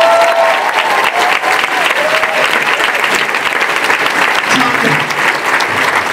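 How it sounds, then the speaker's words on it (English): A live audience at RuPaul's DragCon keynote applauds Tom Campbell, one of the show's creators, with loud, dense, sustained clapping and a few voices mixed in, lasting the whole stretch without letting up. "Give him a big round of applause"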